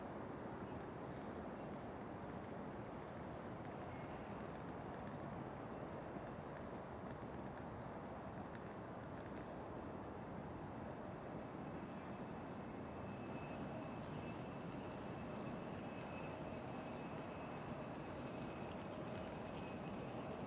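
A KLM City Hopper Embraer E175 lands on runway 27 at Schiphol Airport with its thrust reversers deployed, making a steady, broad roar that stays fairly distant and even throughout, alone with no talking.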